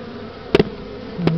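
A swarm of bees in a Sherman Oaks house attic, away from their hive, hums as a steady low buzz, with two short louder bursts from a bee passing close to the microphone and no talking.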